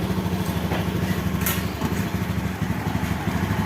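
Honda Beat scooter engine with a rough, faltering fault, revved in short bursts that bog and stutter instead of climbing cleanly, loud and close with an uneven throttle pattern throughout.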